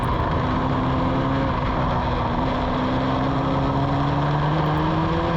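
A Formula Ford race car engine on a track, heard as a constant loud droning roar with a rising and falling pitch as the car accelerates, dense and steady throughout.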